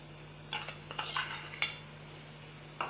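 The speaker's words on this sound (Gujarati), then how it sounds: "બધું હલાવી દઈશું હવે ગોળને ઓગળવા દઈશું હવે" Several quick metal scrapes and clinks from a spoon stirring jaggery into wheat flour lapsi in a pot, coming in short bursts close up and fairly quiet against a steady low hum, with no talking.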